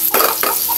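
Pork browning with garlic and onion is stirred in a hot pan, giving two quick close scraping stirs over a light sizzle, with no voices.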